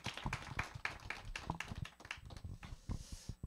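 Applause from a small audience at a morning book-talk session after a poem reading, a loose patter of many hand claps, fairly quiet and close, rising and fading over a few seconds without voices.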